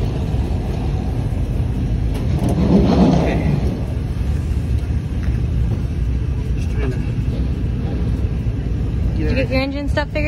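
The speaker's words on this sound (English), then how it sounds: "We fired her up. She's sounding all on all 8, firing off." V8 crate race engine running on race day at New Smyrna, Florida, a low steady rumble with a swell around the third second; voices talk nearby toward the end.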